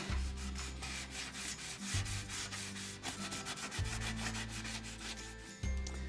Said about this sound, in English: I'm going to decide to start sanding the edge till I see the color that I want